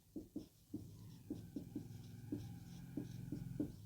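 Chalk or a marker taps and scratches on a board in a quick, close, uneven series of about a dozen short strokes, alone and fairly quiet.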